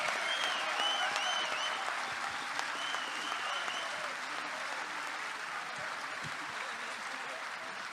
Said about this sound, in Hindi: थोड़ी और तालियों का असर।